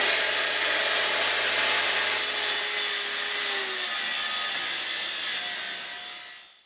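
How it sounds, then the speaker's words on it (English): A Festool track saw cuts a wood tenon shoulder on the rear section of a workbench top, giving a steady broadband rushing hiss that runs unbroken for several seconds and then fades out. "So I used my Festool track saw here to cut right onto the shoulder line."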